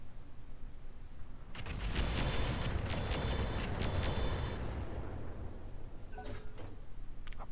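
Mortar bombardment in the Roguetech mech game, a heavy rumbling roar of explosions that swells after a quiet start, holds for a few seconds and fades, with a brief crackle near the end.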